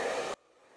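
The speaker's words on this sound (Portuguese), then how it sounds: "Então vem aqui, ó, e vou secando." Hair dryer blowing without a nozzle while drying a man's short hair after a haircut, a loud steady rush for a third of a second that then cuts off abruptly into quiet.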